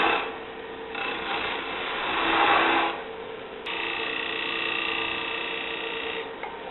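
Wood lathe cutting a tenon on a stump box, a steady scraping rasp of the tool against spinning wood that swells and eases over several seconds, with no talking.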